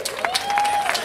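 A live concert audience claps for a conga player, a brief burst of scattered applause with a sustained tone ringing through it.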